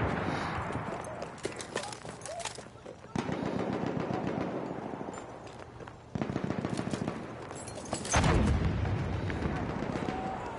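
An enemy machine gun in the video game Battlefield 1 rattles in rapid bursts across the battlefield, with explosions, hoofbeats and shouting voices mixed in.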